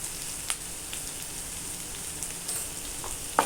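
Onions with crushed ginger and garlic sautéing in a pan with turmeric for hotel-style poori masala, a steady soft sizzle and crackle with a few faint pops, no talking.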